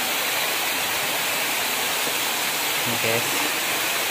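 Heavy rush of a large, fairly clear stream flowing beneath a bridge at Kali Kemiri in Nglipar, Gunungkidul, a loud, dense, steady roar with a brief spoken remark partway through.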